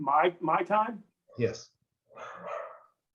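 A dog barks in the background of an online meeting, a few sharp barks mixed in with a person speaking, with short silent gaps between.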